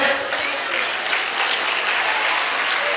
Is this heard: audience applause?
yes